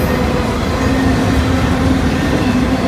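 A freight train locomotive rolls past close by, a loud, steady rumble of engine and rail noise with a constant drone, filling the whole stretch without pause.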